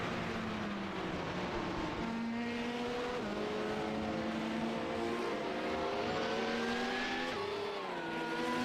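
Race cars in traffic during a Le Mans endurance race in iRacing, including a Genesis SimSport GTE, producing a continuous engine drone with several rising and shifting engine pitches overlapping as the cars run together.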